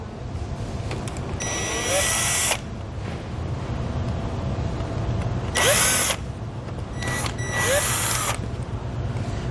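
A power drill backs Phillips-head screws out of a black panel under the hood of a 2017 Ford Expedition, running in several short whirring bursts over a constant low background hum.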